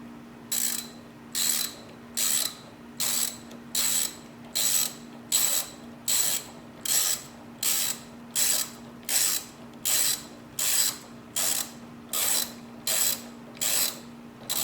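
A hand ratchet tightening a bolt on a Hyundai Genesis Coupe during horn replacement, clicking in steady regular bursts, about sixteen strokes, close and loud with no talk.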